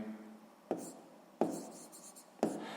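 A pen writes down a math answer for a sixth-grade geometry exercise, giving three short, sharp scratchy strokes spaced apart on a quiet background.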